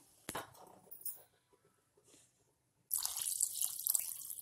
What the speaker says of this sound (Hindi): उसी ग्लास से दो ग्लास पानी डालेंगे क्योंकि एक ग्लास चावल के लिए दो ग्लास पानी परफेक्ट होता है